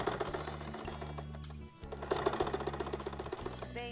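A sewing machine stitching a fabric pot holder, a close rapid mechanical whir with a steady rhythmic hum, briefly pausing midway before resuming.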